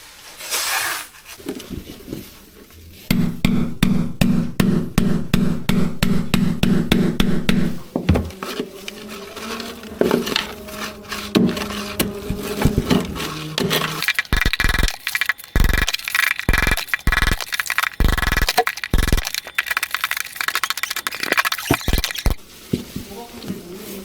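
Repeated sharp hammer strikes break up a floor while searching for a water leak, coming as irregular bursts of loud knocks and scraping debris, with people talking briefly near the start.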